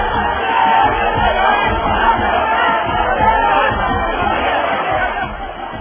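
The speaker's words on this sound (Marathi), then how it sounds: "साईंच्या पालखीचं दर्शन घ्यायला अमाप गर्दी लोटते" A large, dense crowd gathers for a Sai Baba palkhi procession, a continuous wash of overlapping voices and chatter that holds at an even level and eases slightly at the end.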